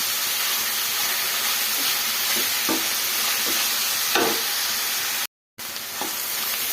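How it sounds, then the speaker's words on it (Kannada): Chopped carrots sizzle steadily in a hot pan, with soft scraping stirs at intervals and a brief dropout near the end, with no voices. "ಈ ಕ್ಯಾರೆಟ್ ಎಲ್ಲನೂ ಹಸಿ ವಾಸನೆ ಹೋಗೋ ತನಕ ಫ್ರೈ ಮಾಡ್ಕೊಬೇಕು ನಾವು."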